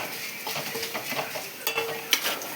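Dried green chillies tempering in hot oil, a steady close sizzle and crackle with scattered stirring and utensil clinks over about two and a half seconds, no talking.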